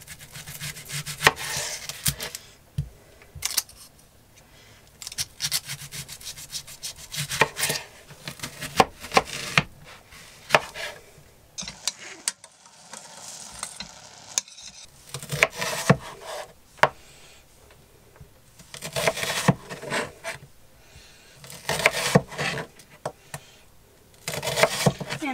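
Brisk, uneven knife chops through an onion on a wooden board, cutting it into cubes, coming in quick bursts with short pauses, close by and fairly loud.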